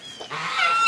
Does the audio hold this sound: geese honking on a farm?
yes